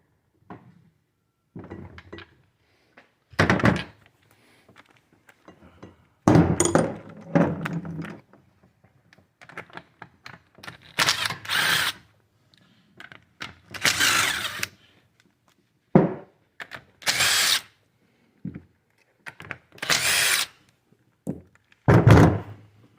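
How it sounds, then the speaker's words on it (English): Bolts being removed from a Ford C4 automatic transmission produce irregular metallic thunks, clanks and ratchet bursts in separate short clusters, loud and close, with quiet gaps between them. "I'll just take these bolts off there."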